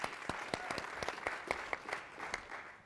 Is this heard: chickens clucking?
no